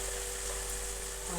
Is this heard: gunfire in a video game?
no